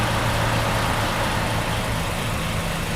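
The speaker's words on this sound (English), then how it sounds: "Keep the car running a few minutes so the battery can charge up." Car engine idling after a jump start with jumper cables, a steady close low rumble with continuous broadband noise and no voices.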